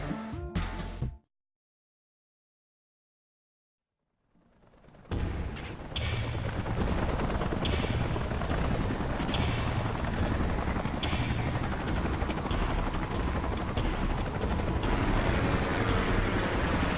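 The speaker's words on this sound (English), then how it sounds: "Let's call in the salvage choppers and get it out of here." Salvage helicopters in the video game Xenoblade Chronicles X: after a brief silence, a loud, steady rotor-and-engine roar swells in and holds continuously, close and dense.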